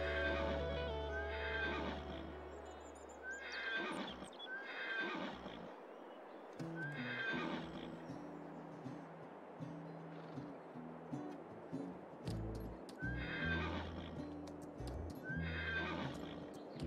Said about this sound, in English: Why do I hear a horse?